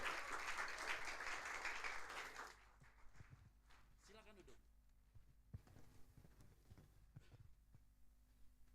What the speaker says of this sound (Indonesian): mari kita beri tepuk tangan yang meriah buat Veronica Mugawe